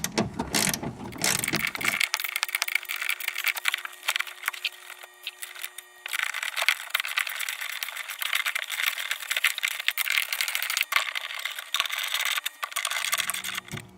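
A ratchet tightens the tail light fasteners on a 1997 BMW E36 M3 sedan, with fast, close, continuous clicking and a brief high whine partway through.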